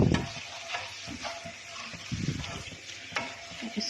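Cinnamon pieces and whole spices frying in oil for Kashmiri dum aloo, a soft steady sizzle with occasional stirring knocks from a spoon in the pan, fairly quiet and without speech.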